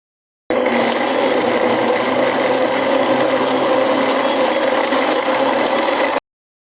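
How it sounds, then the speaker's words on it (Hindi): A blender grinds pineapple chunks with ice for fresh juice, a loud, steady, rough whirring roar that starts abruptly, holds for about six seconds, then cuts off. "मैं यहाँ पर बर्फ़ भी शामिल करूँगी, साथ में ही ग्राइंड करेंगे बर्फ़ डालकर।"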